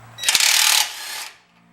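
An impact wrench works a strut bolt loose on a 2014 Ford Fusion: a loud, dense mechanical burst rattles for about a second, steps down slightly, then stops and leaves quiet.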